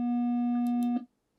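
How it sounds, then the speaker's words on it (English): A steady synthetic tone with a buzzy, hollow edge holds at one pitch for about a second, then cuts off cleanly into silence. "If you take a triangular waveform and try to listen to it"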